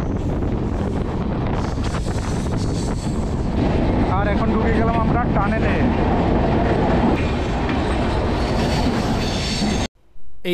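The 13152 Jammu Tawi–Kolkata Express runs on its rails, heard from on board as a loud, continuous rumble with wind buffeting and clattering wheels. Voices come in briefly before the sound cuts out sharply near the end.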